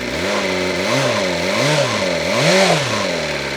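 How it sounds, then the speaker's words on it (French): A motorcycle engine idles close by and is blipped on the throttle several times, each short rev rising and falling, with the last blip the strongest, over a steady rumbling idle. "Je vais donner un petit coup de gaz."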